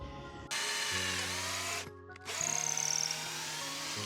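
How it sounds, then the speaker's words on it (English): A power drill fitted with a larger bit bores through wood to widen an existing hole, a steady whining motor hum that dips briefly mid-way as the bit catches, then resumes with a louder grinding bite, no talking. "So I've got a bigger bit in. I'm just going to follow that same hole I made originally."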